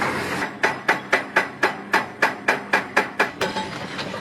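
Hydraulic rock breaker hammering rock at a mine, a loud steady series of about twelve sharp impacts at an even rhythm, close and with no voices.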